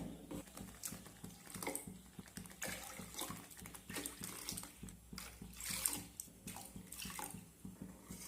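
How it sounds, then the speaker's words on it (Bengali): Water from a bowl is poured into a thick sago batter for homemade papad, a faint, steady splashing and gurgling of liquid running into the mixture that continues for several seconds without talk. "এখন আমি আবারও এর মধ্যে দিয়ে দেব 5 বাটি জল।"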